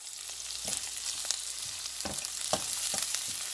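Curry leaves and green chilies crackle and hiss in hot oil in a pan. The frying is close and steady, with a few sharp spatula scrapes and pops breaking in.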